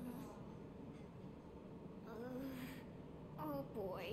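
Packed passenger train in the Final Fantasy 7 Remake video game, a quiet low rumble of rolling carriages with faint metallic squeals and brief hissy bursts near the end, no talk over it.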